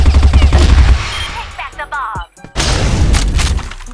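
Automatic M4 rifle fire in a shooting video game, loud rapid bursts of shots that break off briefly near the middle and then resume, with a voice talking over them.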